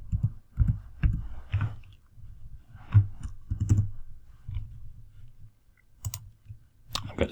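Typing on a computer keyboard, a close run of irregular clicks and key taps in short bursts with brief pauses between, heard alone without talk.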